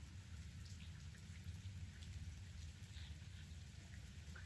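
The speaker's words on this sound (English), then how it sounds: "But I love the rain." Rain falls outdoors on a chilly autumn day, a faint, steady patter of drops on surfaces with a low rumbling background and no talking.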